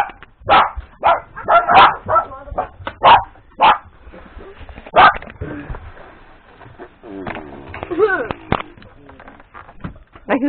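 Dogs bark outdoors in sharp loud bursts, several barks in quick succession early on, then scattered yips and calls while a person talks over them.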